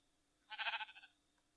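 A sheep in modded Minecraft gives one short, wavering bleat of several rapid pulses, clear and fairly close against a quiet background.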